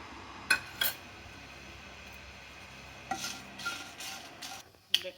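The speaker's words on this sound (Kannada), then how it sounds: "ಒಣಮೆಣಸಿನ್ಕಾಯಿ ಹುರ್ಕೊತಾ ಇದ್ದೀನಿ." Dry red chillies roasting in a little oil in a pan, a faint soft sizzle under scattered clinks and scrapes of a utensil against the pan, with no talk.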